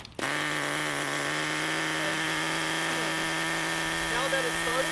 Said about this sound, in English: give it a couple pulls and start the engine.